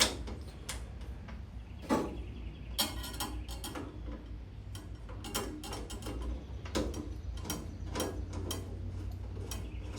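Quiet clicking, ratcheting turns of a screwdriver drive a Phillips screw into a freshly painted 1960s Chevy Nova 9C1 front door in a garage, with irregular sharp ticks over a low steady background hum.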